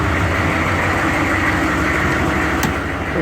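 A 6.5-litre turbo diesel engine idles after a cold start, with a steady, loud, close rumble and no pauses or talk.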